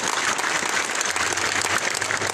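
A crowd at a municipal swearing-in ceremony in San Andrés Huaxpaltepec, Oaxaca, claps in a brief, dense burst of applause that is loud and steady throughout.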